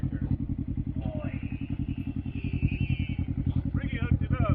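A Can-Am Ryker with a prototype RLS exhaust idles with a deep, rapid, even pulsing throb close by, while someone talks over it.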